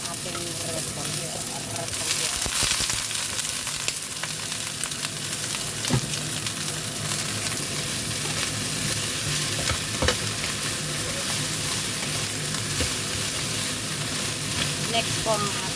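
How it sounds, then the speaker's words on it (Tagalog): Shredded cabbage sizzles and fries in a hot pan, a steady hiss broken by occasional scrapes and knocks as it is stirred, with faint talk now and then. "Gisa natin ang repolyo."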